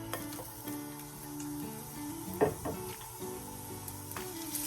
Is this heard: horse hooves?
no